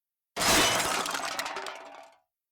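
A loud, sudden crash of shattering glass, then scattered tinkling and clattering pieces that fade out over about two seconds.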